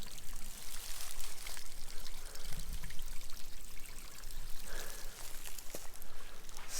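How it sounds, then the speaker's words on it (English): Shallow creek at Buffalo National River barely trickling, a steady close hiss of water over stones with small splashes and gurgles, continuous and fairly loud with no voices. "I'm here at the creek and it's just a trickle."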